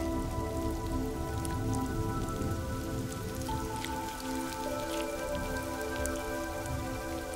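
Rain falling at night, a steady, close patter of drops on surfaces with scattered louder drips, continuous and unbroken, with a faint tonal hum underneath.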